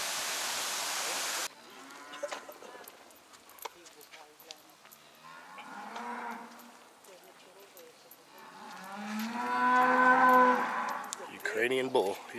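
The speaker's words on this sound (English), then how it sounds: "Ukrainian bull. He does not sound happy." Ukrainian bull near the Kyiv Sea giving long, drawn-out unhappy moos, two main bellows, the second louder and closer, with scattered knocks and quiet background noise.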